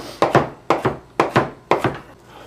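A knife chops fresh spinach leaves on a cutting board in four crisp, evenly spaced double strokes that sound close and fairly loud, with no talking.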